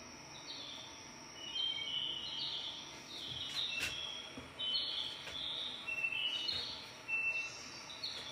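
Several birds chirp and trill in short bursts from outdoors, moderately distant, over a faint steady background hum.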